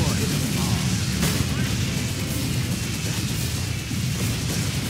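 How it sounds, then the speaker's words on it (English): An artillery barrage rumbles in the Blitzkrieg 3 war game as a dense, continuous wash of booms and low blasts, with a voice talking over it. "We want to see the barrage."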